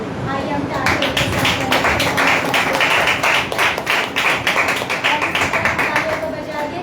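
Congregation at a Thursday church service clapping hands in praise, a dense, steady run of many overlapping claps that fills the space continuously, with voices mixed in underneath.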